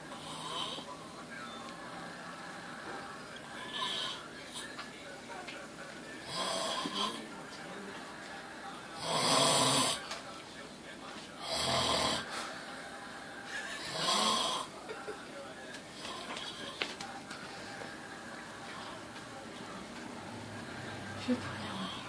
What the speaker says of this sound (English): How the fuck can you snore that loud?